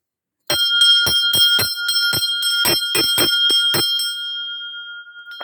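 Heavy new metal bell struck over a dozen times in quick, uneven succession, its bright tone ringing on and slowly fading after the last strike.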